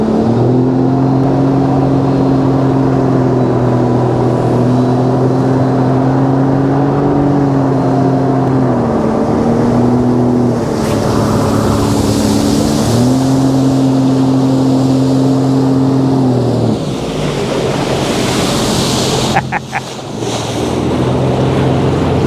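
A Sea-Doo personal watercraft cruising down the wide St. Lawrence River in the Thousand Islands, its steady droning engine loud and close with a constant pitch that dips and rises, mixed with wind and water rush.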